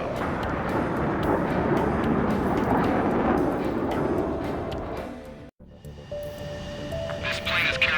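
An airplane from the video game Ace Combat 7 roars with a broad engine rumble that fades near the end, giving way to quieter tonal game sounds.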